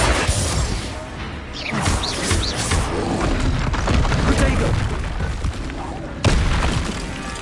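Spell blasts and magical explosions in a Harry Potter wizard video game: repeated loud booms, crashes and whooshes in dense, continuous combat, with a sharp burst near the end and voices calling out over the action.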